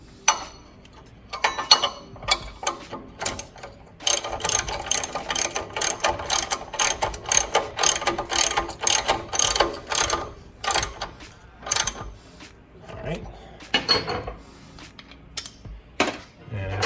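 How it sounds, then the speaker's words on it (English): A torque wrench tightening trailing arm bushing bolts on a Mitsubishi Montero, giving rapid bursts of close, sharp ratchet clicks in uneven runs with short pauses between strokes. "Torque wrench set to 150, so you're going to torque both of these"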